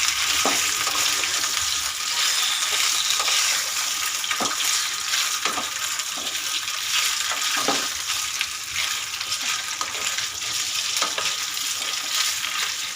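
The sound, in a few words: idli sizzling while being tempered in pan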